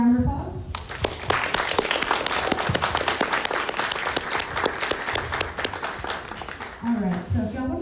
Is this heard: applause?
yes